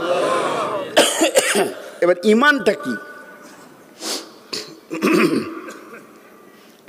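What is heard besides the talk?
coughing after an insect entered the throat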